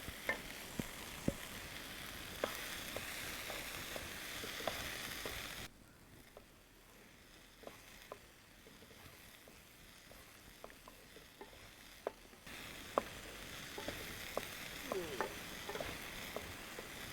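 Bilimbi thoran frying and being stirred in a pan with ground coconut paste, a steady close sizzle with scattered spoon clicks and scrapes that drops quieter midway, then picks back up.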